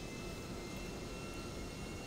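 Airplane flying in the video game GTA V, a steady, even engine drone with a smooth rushing tone, constant in level and heard alone.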